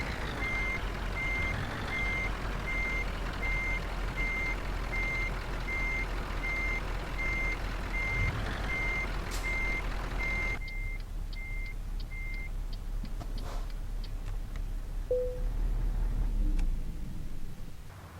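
A truck in Euro Truck Simulator 2 reverses to park, its backup alarm beeping steadily for about twelve seconds over a low engine rumble, then stopping as air-brake hisses and a few clunks follow.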